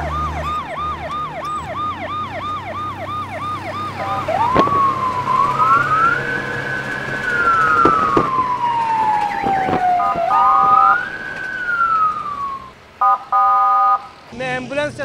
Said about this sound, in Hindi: रास्ता दे दीजिए एम्बुलेंस का